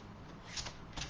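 A deck of playing cards is shuffled in a quiet indoor setting, giving two short riffling bursts with a soft papery flutter, close and faint, with no voices.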